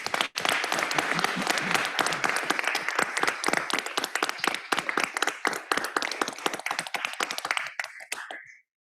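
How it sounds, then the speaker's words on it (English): Audience applause for sponsors at a city work session, a dense burst of clapping that thins into sparser, distinct hand claps and dies away near the end. "Can we please have a round of applause for our sponsors here?"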